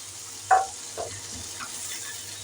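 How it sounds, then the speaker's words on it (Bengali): Spices for chicken butter masala sautéing on a low flame, a soft continuous sizzle with a few light clicks and stirring touches, close and quiet, no voices. "দিয়ে দিলাম এটা সুন্দর করে লো ফ্লেমে এটাকে কষিয়ে নিতে হবে"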